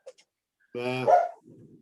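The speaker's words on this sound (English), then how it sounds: "I hear a lab." A Labrador barks once, a single loud bark with a whining tail, heard through a Zoom meeting connection and followed by faint background noise.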